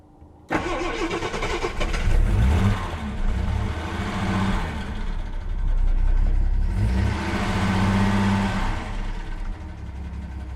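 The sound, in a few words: classic car engine starting and idling after K-Seal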